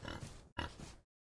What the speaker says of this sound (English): You can hear them pigs from way over here.